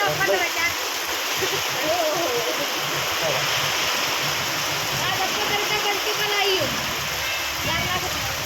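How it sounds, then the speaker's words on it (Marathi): Heavy monsoon rain pouring steadily, a dense loud hiss like rushing water that runs unbroken throughout, with people talking over it. "लय मोठा पाऊस आहे"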